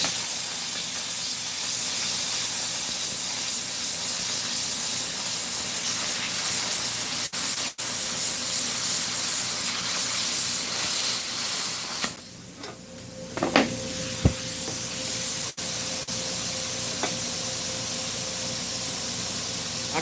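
A titanium plasma cutter with its amperage raised to 40 slices through stainless steel, giving a loud, steady, close roaring hiss that briefly drops and dips partway through before resuming.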